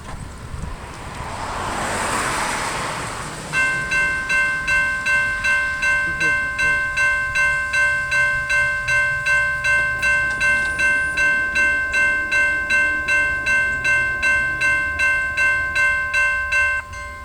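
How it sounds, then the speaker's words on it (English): A CSX maintenance-of-way work train led by a single CW44AC locomotive rolls past at a road crossing in Waxhaw, North Carolina. A loud horn chord rises out of rushing wind noise and holds, with steady, rhythmic wheel clacks continuing close by. "We got CSX work train W009 coming northbound through Waxhaw, North Carolina at Rehobeth Road on the CSX Mow Subdivision."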